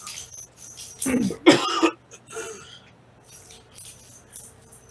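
A person's voice imitating a couple of rough coughs, close and fairly loud, followed by faint background noise.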